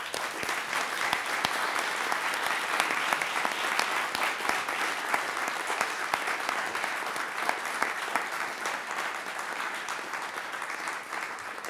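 An audience at a Balkan forum of the Rosa Luxemburg Foundation applauds with dense, steady clapping that runs loud and unbroken for the whole stretch, and no voice rises above it.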